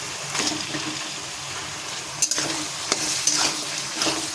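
Meat frying in spices in a pan, with a constant sizzle and a few sharp scraping stirs and clanks of a spatula against the pan, close and without talking.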